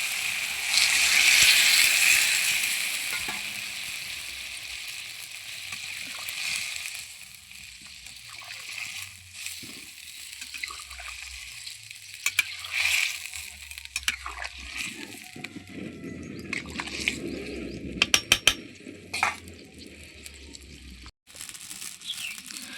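Warm water poured into sautéed green jackfruit in a pan, a loud sloshing splash at the start, then quieter bubbling and simmering of the curry with scattered clicks and scrapes, close up.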